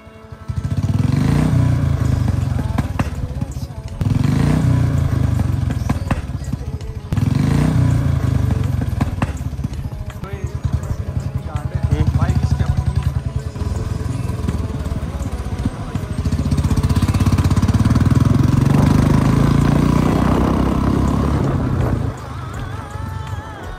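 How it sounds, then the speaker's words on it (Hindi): A Royal Enfield Bullet motorcycle fitted with a loud firecracker-style exhaust silencer thumps close by, with repeated rev surges, short lulls and bursts of crackling from the pipe. "आज सिलेंसर अपना लगा हुआ भाई पटाखे वाला, तो भाई आपको पता है भाई पटाखे जब बजेंगे ना तो सारे मुड़ मुड़ के देखेंगे आज।"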